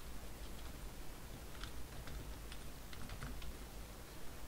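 Computer keyboard typing while writing Arduino code: a run of light, irregular key clicks close by over a steady background hiss, with no speech.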